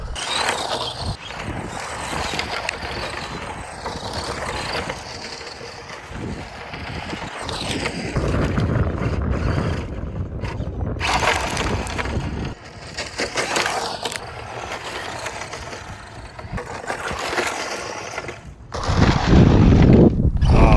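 A Tamiya BT-01 RC car drives and slides across a bumpy dirt lot. It makes gritty, crunching, whirring surges that rise and fall through the clip, with a sharper burst near the end.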